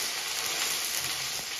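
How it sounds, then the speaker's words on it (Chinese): Chopped scallions fry in hot flaxseed oil in a wok in a rural Gansu home kitchen, a dense, steady close sizzle with faint crackles throughout. "葱花下锅"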